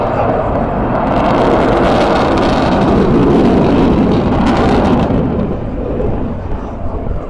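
An Avro Vulcan XH558 bomber roars overhead at an air display, a loud, continuous broadband rumble that swells and then eases slightly toward the end.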